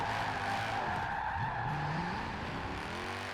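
Tires skid and squeal continuously as a tuned car slides sideways in a drift in Forza Horizon 4, a steady loud rubber screech over engine drone, rising in pitch mid-slide, with no talking.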